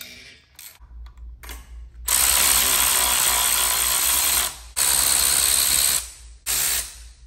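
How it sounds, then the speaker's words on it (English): Ratchet driving a ball-ended Allen socket on a 1972 Harley-Davidson Shovelhead engine, a loud steady mechanical whir running in long bursts with brief pauses between them, close up and with no talking. "I use a ball-ended Allen socket to get into these tight spots."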